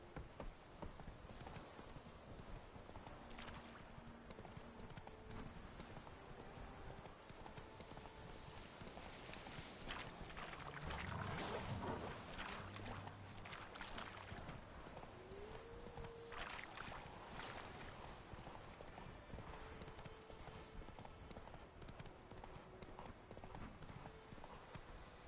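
Roach, the horse from The Witcher 3, trotting with a continuous, even clip-clop of hooves over steady outdoor game ambience, growing briefly fuller midway, with occasional faint tonal game sounds.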